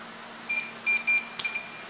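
An automatic garage door timer on a 9-volt battery gives a few short, fairly clear electronic beeps in quick succession over a quiet background.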